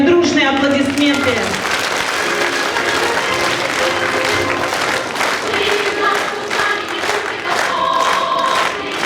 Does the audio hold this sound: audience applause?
yes